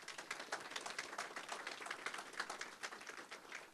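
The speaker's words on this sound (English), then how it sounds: "Can we give them a round of applause, please?" Audience applause at a 2023 fashion show, a steady wash of many hands clapping at moderate level throughout, with no voices on top.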